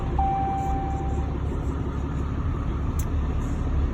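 2018 Ram truck engine idling after start-up, a steady low rumbling drone heard from inside the cab, with a brief chime near the start and a faint click later.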